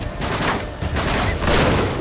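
Loud, dense gunfire from the video game Uncharted 3: Drake's Deception on PS5, rapid overlapping shots forming a continuous barrage with no voices.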